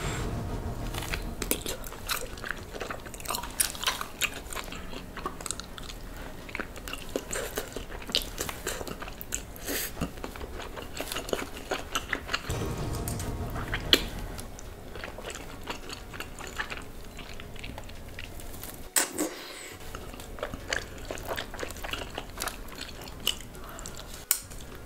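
Someone bites and chews tanghulu, candied fruit with a hard sugar shell, making close, repeated crunches and wet chewing over a long stretch with a brief pause near the end.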